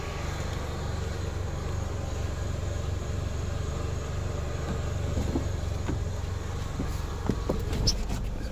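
A 27-year-old Pontiac Sunfire project car running steadily with a low, continuous engine rumble and road noise, a few faint clicks and knocks near the end, no talking.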